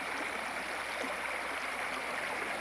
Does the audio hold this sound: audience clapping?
no